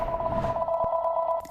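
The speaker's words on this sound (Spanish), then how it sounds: "Suena el teléfono" Telephone ringing in a family home, a steady electronic warble that holds loud and continuous throughout, with a faint thump partway through.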